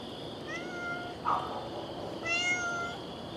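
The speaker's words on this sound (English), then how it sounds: "I was hearing a thump, and it's a cat on a roof." A cat on a roof meows several times, two drawn-out cries separated by a brief sharper sound, moderately close over a quiet background hum.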